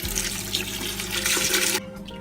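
Boxed broth pouring into a soup pot, a steady, close gushing splash that runs for about two seconds and then cuts off abruptly.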